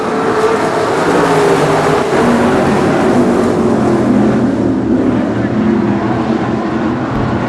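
Race cars roaring away at the start of the first race of the night at a dirt track, a loud continuous engine drone with wind buffeting the microphone and an announcer talking over it.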